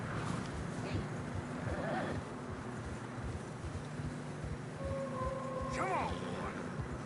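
Horses gallop through fresh snow in the open-world Western video game Red Dead Redemption 2: a soft, continuous patter of hooves under a steady wind-like ambient bed, with a brief whinny-like tone near the end.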